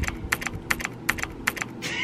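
Rapid, even clicks of keys being pressed on a computer keyboard typed with bare feet, about a dozen taps in quick rhythm, close and fairly crisp with no voices.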